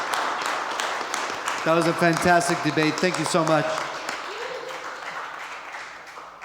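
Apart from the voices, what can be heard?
audience applause after a debate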